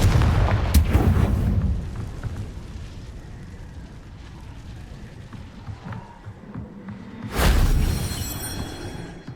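A Confringo fire spell blast from the Hogwarts Legacy video game, heard as loud booming bursts near the start and again near the end, with a rumbling low roar between them.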